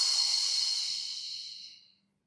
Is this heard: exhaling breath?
yes